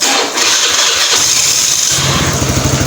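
A Suzuki Address scooter engine, freshly oil-changed with a cleaned throttle body, cranks and catches, then settles into a steady, low putter, loud and close with no talking.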